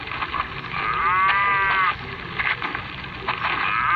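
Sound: cows mooing in a video game

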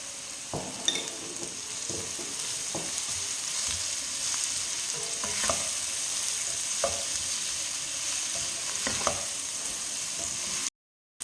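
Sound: onions and shallots frying with salt in a pan

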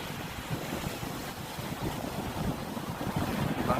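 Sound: waves crashing near boat dock

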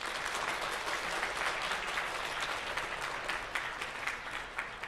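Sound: audience applauding parents at school concert

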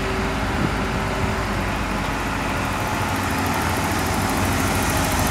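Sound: car engine running at idle

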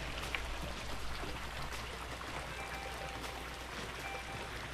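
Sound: pool waterfall splashing

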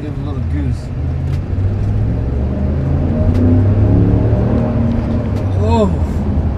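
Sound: 2020 Dodge Ram 1500 5.7L Hemi engine revving, accelerating

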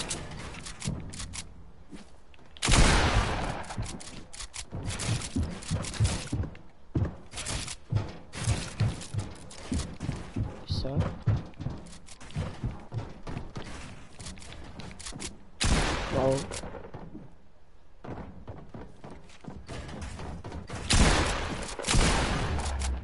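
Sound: gunfire from the video game Fortnite

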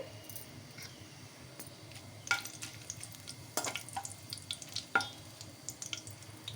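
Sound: tempering frying in ghee for capsicum potato fry

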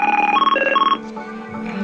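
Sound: ISDN phone ringing

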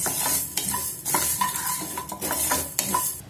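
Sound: roasting spices and asafoetida (hing) in a pan

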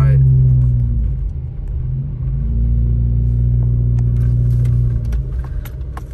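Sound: Hyundai car driving on a mountain road

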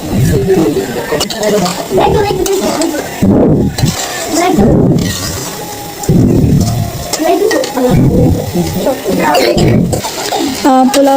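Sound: pulao rice being stirred and fried in pot

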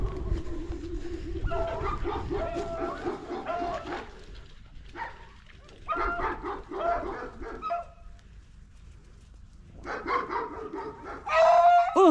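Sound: greyhound and beagle dogs barking while hunting rabbits

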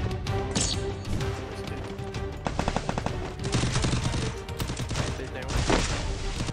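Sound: gunfire in video game

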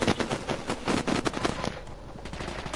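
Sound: gunfire in a video game

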